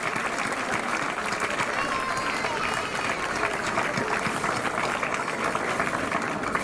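Strong, sustained audience clapping at the presentation of the Ball de Titans during the Santa Tecla festivities, a dense steady roar of hands with crowd murmur beneath, unbroken throughout.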